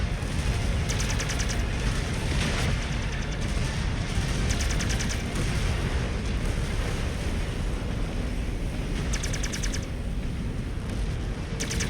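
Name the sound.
mech weapons fire in video game Mechwarrior 5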